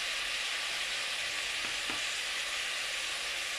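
Onions and garlic fry in a pan, a steady close sizzle with faint stirring scrapes.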